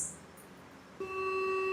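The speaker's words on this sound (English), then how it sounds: "let's hear the sounds of their various buzzers" After a brief quiet moment, the quiz competition buzzer for the school Namon MAJHS comes in as one sustained electronic beep tone, clear and alone.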